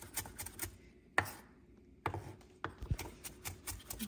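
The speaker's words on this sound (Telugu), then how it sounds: "టైం తీసుకొని నీట్గా చిన్నగా చాప్ చేయండి" Knife chopping vegetables finely on a board for a Sunday breakfast dish, a run of sharp taps with short pauses, close and fairly quiet, no talk.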